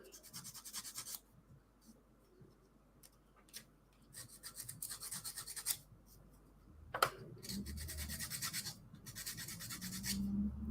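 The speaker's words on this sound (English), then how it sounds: "it's actually really easy to sand these off." Wood being sanded by hand, a series of close, dry rasping strokes in bursts separated by short pauses, steady and moderately quiet with no talk.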